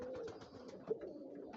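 Pigeons at a pigeon fair give a soft, low, continuous cooing that stays quiet and close throughout the short moment, with one brief louder note midway and no voices.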